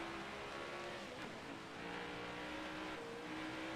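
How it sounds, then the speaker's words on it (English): Race car engines from the NASCAR Heat 5 video game drone steadily and loudly, a dense continuous roar of several cars at speed with slight pitch shifts as they run together on track. "I'm just kind of amazed that they have new engine sounds."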